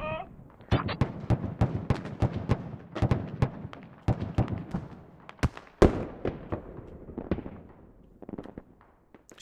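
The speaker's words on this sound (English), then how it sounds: "Artillery's coming in." An artillery barrage in the video game Squad, a dense run of heavy booming explosions in quick succession, loud and close at first, then thinning and fading toward the end.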